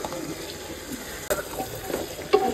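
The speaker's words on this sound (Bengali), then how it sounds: "তারপরে এটাকে একটু কষিয়ে নেব" Winter vegetables with coriander powder and other spices sauté in a pan, a steady close sizzle broken by scraping stirs and a couple of sharp clinks of the utensil against the pan.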